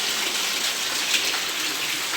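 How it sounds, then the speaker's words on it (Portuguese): Heavy rain pours steadily in Maceió, a loud, dense hiss of water falling without a break. "Quantidade de água, pra ter noção como é que tá forte a chuva."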